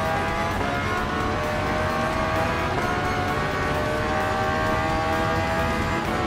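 A Renault F1 car engine in Gran Turismo 7 screams at steady high revs, a loud continuous racing drone with no pauses and no talking.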